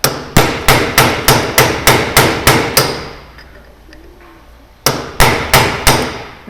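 Steady hammer blows on a Miata differential, driving a bearing off at its seam: a rapid run of about ten loud metallic strikes, a pause, then another quick burst of five.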